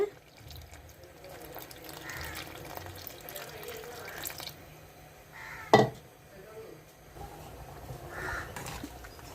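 Water poured into a pot of Andhra-style sambar with tamarind, making a brief splash and gurgle in the middle, set in quiet kitchen sounds and faint utensil clinks.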